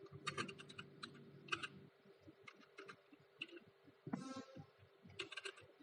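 Fingers type on a computer keyboard in quick, faint bursts of light plastic clicks, with short pauses between runs of keystrokes against a quiet room.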